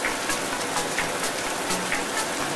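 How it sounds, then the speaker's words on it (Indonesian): Heavy rain pours steadily onto surfaces with a constant hiss and scattered drops striking nearby, loud and continuous throughout, with no talking. "Wah, hujannya makin deras."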